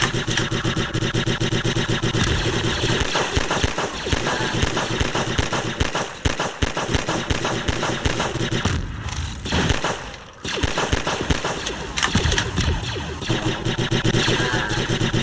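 Continuous video-game battle noise: dense rapid gunfire and blasts rumble almost without pause for about fifteen seconds, with a brief lull midway, loud and close.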